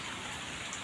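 Steady rain falling in the afternoon, a dense, even hiss of drops that stays constant and fairly quiet throughout with no voices.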